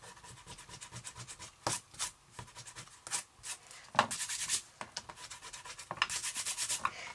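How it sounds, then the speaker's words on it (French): Pencil figures on a handmade hidden-message card are rubbed out with an eraser, giving close, dry scrubbing strokes in uneven bursts with brief pauses between them. "Je vais gommer, si je retrouve ma gomme, mes chiffres"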